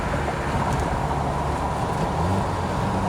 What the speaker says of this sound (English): Going over some bumps on the bridge.